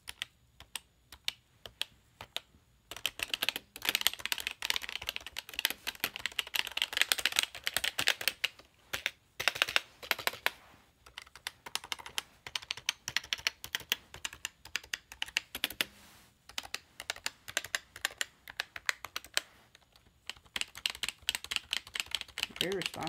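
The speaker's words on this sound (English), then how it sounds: "I'll do a type test. I'll show you how it sounds." Fast typing test on a budget RGB computer keyboard, bursts of crisp close key clicks in quick irregular runs with a few short pauses, carrying on alone for about twenty seconds.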